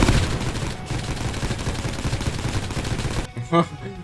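Gunfire from the Timeless and Classics gun mod in Minecraft: a dense, loud burst of rapid shots that cuts off near the end, followed by a short tail of game sound.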